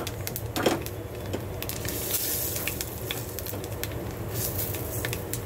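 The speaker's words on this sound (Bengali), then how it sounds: "এই যে একটা শুকনো লঙ্কা দিচ্ছি, আর একটু কালো জিরে, এটা আমি ফোড়ন দেবো" Dry red chilli and black cumin seeds sizzle in a little hot oil for tempering, a steady close crackling fry with faint stirring and a brief louder spit near the start, no talk.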